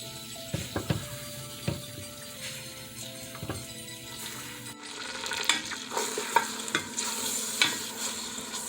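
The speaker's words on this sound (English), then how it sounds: "we'll collect both the onion and the garlic and we'll put them in with our butter" Onion and garlic frying in butter give a steady close sizzle, broken by repeated stirring scrapes and clicks that grow busier and brighter in the second half; no one speaks.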